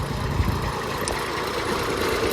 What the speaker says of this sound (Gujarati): આવી ગયું ભાઈ આપણું ટ્રેક્ટર.